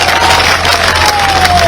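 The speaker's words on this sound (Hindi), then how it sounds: "जोरदार ताली बजाओ इस बात के लिए" A crowd at an election rally in Chatra, held for Madhya Pradesh Chief Minister Mohan Yadav, claps and cheers in a dense, loud, unbroken wash of noise from start to finish.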